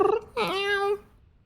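A person's voice imitates a cat's meow, one drawn-out rising and falling call, close and clear, with a breathy sound just before it.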